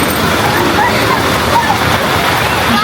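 Heavy monsoon downpour splashing into pooled water, a steady loud rushing hiss with splatter throughout, continuous and close.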